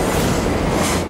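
Subway train rumbling and rattling on the rails in the 1995 film Die Hard with a Vengeance, a loud, dense roar that cuts off abruptly after about a second.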